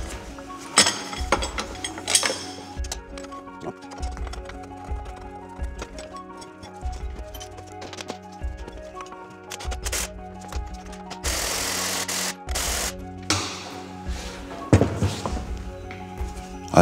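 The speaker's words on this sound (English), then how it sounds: "All we do is we turn this nut, this clamps in like so, crushes on the spring and takes the tension off the spring." Metal tools clank and ratchet as a nut is turned on a spring compressor, clamping a coil spring from a Mini Cooper S R59 Roadster's suspension, with repeated close clinks and knocks and a burst of grinding scrape midway.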